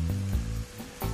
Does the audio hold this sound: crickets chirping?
no